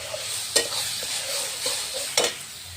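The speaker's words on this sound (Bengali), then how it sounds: "তো চিকেনটা প্রথমে একটু আমি তেলে ভাজা করে নিয়েছি, তারপরে রান্না করবো। এই যে এখানে মশলা করছি।" Chicken with spices being stirred in hot oil, a loud, close steady sizzle with a couple of sharp scrapes of the spoon against the pan and no talk.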